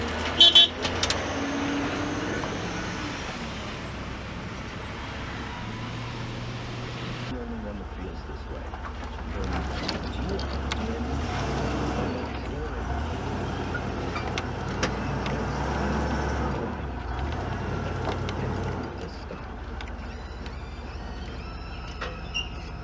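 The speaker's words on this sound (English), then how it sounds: "this little dump truck does pretty well with 4 tons in it" A small 8,000-pound dump truck hauls a 4-ton load of quarry gravel, its engine droning steadily close by with road and cab rumble throughout, the tone shifting partway through as it works, while someone talks over it.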